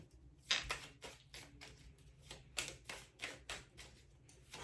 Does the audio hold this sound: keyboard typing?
yes